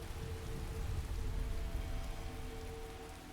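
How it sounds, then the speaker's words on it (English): Rain patters steadily in Skyrim Special Edition, a soft, continuous hiss of drops on surfaces with a low rumble underneath, fairly quiet and with no voices over it. "Why am I dealing with the rain like this?"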